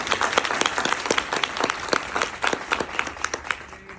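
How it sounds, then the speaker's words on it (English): Graduation ceremony audience applauding, with dense sustained clapping from a crowd and sharper individual claps standing out, steady throughout and tapering slightly at the end. "Please, another round of applause."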